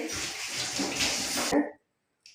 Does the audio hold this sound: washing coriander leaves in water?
yes